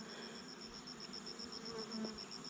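Giant honeybees hum around a large wild nest outdoors, a faint continuous buzz with a few louder passing insects close by.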